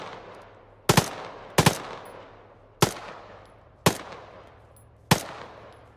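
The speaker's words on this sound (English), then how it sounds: "I think I shot him in the face." Shots ring out in a military video game, five sharp reports spaced irregularly about a second apart, each with a quick decaying tail, loud and close with no talk.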